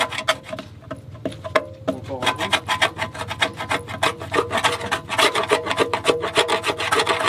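A rusty metal surface being scraped down to bare, whitish metal gives a harsh, rhythmic rasping that starts with scattered strokes and builds into fast, steady back-and-forth scraping, loud and close, with some voice now and then.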